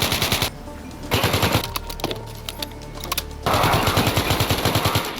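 Machine gun fire in a Minecraft modern combat mod, rapid bursts of evenly spaced shots at the start and end with a quieter gap of scattered clicks and cracks between, loud and close.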